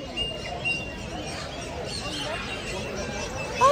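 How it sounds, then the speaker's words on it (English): Exotic birds call at a busy indoor bird mart and expo, with a few sharp chirps and whistles over a steady murmur of crowd noise, and a louder call near the end. "Look at all these birds."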